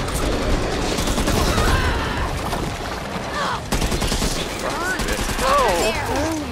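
Bursts of gunfire rattle through a Back 4 Blood co-op video game match, rapid overlapping shots under chaotic game noise and a player's voice talking over it.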